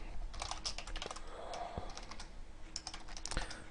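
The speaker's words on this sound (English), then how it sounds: "I'm just going to start typing a C++ program." A C++ program is typed on a computer keyboard with rapid, irregular clicks and key taps, close up and alone, in uneven bursts with brief pauses.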